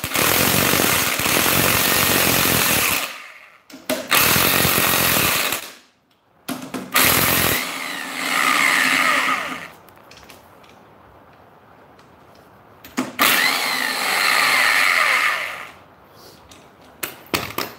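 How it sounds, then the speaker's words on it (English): An electric impact wrench loosens a bolt on a camper in loud bursts of rapid hammering, several seconds each, with short pauses and quieter handling noise between them. "I wanted an electric impact because I don't have a huge air compressor"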